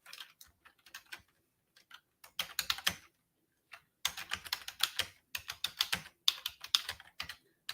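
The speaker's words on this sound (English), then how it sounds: "I'm just typing in here." Bursts of fast keyboard typing, crisp clicking keystrokes in irregular runs with short pauses between, close and fairly quiet.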